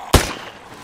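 A single sharp gunshot from the PC game Parasitic Descent cracks out close and loud, then tails off quickly into a faint ringing decay.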